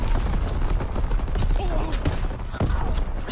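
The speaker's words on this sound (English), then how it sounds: "Dude, the artillery!" Artillery barrages and gunfire in a Call of Duty WW2 online match, dense and continuous, with heavy thuds and booms layered over constant battlefield rumble.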